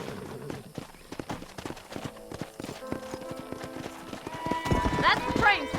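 Horses in the Red Dead Redemption video game, a run of clip-clopping hooves with a whinny near the end, under talking voices and game music.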